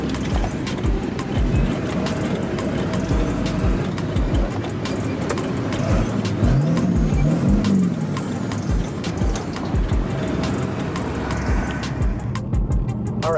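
A 7.3L Powerstroke diesel truck with its exhaust removed roars continuously up close with a rough, clattering rumble and a faint turbo whistle rising and falling partway through.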